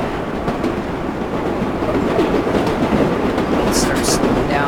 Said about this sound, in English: There's a Flushing Main Street bound train.